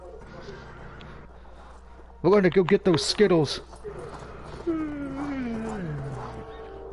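A horse neighs loudly in a short, shaky whinny in the video game Ghost of Tsushima, with a person talking before and after it and faint hoof sounds.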